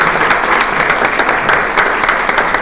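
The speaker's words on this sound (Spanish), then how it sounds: "Le damos un fuerte aplauso a la doctora" Audience applause for a doctor after her talk at a teacher-training session, a steady dense wash of clapping from many hands, loud and close, with no voices over it.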